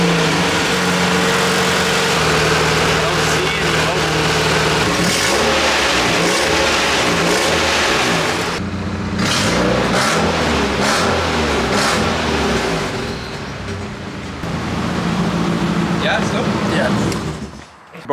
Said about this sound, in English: Bro, the car sounds fine.